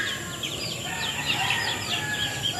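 Chickens and a rooster on a small farm cluck and chirp in a steady busy chorus, with repeated bird calls layered over low background noise and no talking.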